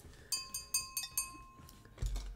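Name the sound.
drinking glass clinking down on a coaster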